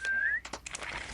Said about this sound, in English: This whistle is so annoying.